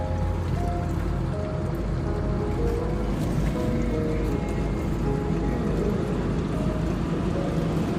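Grey water gushes from a full campervan waste tank onto a roadside at night, a steady loud broadband rush of splashing flow running continuously and close, with a low rumbling hum underneath.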